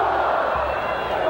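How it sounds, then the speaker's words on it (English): Fired-up crowd at a 1990 NCAA I-AA national semifinal college football game, Boise State at Nevada, giving a loud steady roar of cheering that fills the stadium, with an announcer talking over it throughout. "This crowd is as fired up as any Nevada crowd I have ever seen here"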